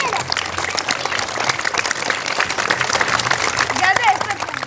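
Clapping from a group of children in a TV morning show studio, uneven and busy, with voices chattering over it in a noisy room.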